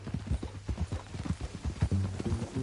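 Horse hooves clip-clop steadily in Red Dead Redemption 2, a close, regular trotting rhythm with faint low murmuring underneath.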